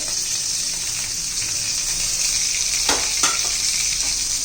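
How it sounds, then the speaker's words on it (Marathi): Green chili, cumin and garlic roast in hot oil in a pan, giving a steady, bright, close sizzle with a couple of louder stirring scrapes near the end. "त्यामध्ये बघा हिरवी मिरची जिरं आणि लसूण हे आपण भाजून घेऊया"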